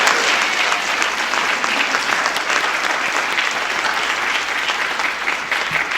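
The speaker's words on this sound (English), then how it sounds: "could we get another round of applause for the 2025 National Honor Society inductees?" An audience applauds the 2025 National Honor Society inductees at an induction ceremony, a loud, sustained wash of clapping that stays steady and fades slightly toward the end.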